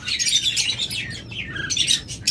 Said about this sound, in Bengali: আমাদের কাছে রয়েছে হিউজ পরিমাণ লাভবার্ড, সকল মিউটেশনের লাভবার্ড রয়েছে আমাদের কাছে